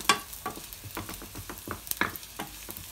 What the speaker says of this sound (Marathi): तेल गरम झालेलं आहे, आपण त्याच्यामध्ये लसूण टाकूया.